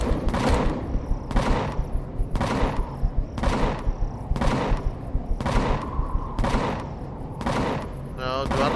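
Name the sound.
gunfire in the video game Empyrion Galactic Survival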